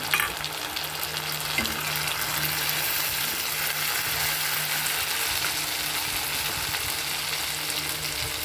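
Onion and tomato frying in a pan, a steady dense sizzle and crackle running throughout at close range, with occasional faint stirring clicks and no talk.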